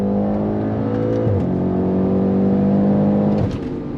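An Audi RS7 under full throttle, its engine note climbing loud and close, with quick gear shifts breaking the rising pitch twice before it pulls on.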